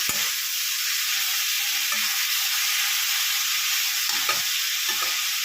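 Pointed gourd and potatoes fry in a salted pan with a loud, continuous sizzle close by, broken by a few soft stirring scrapes and clinks partway through; no one speaks.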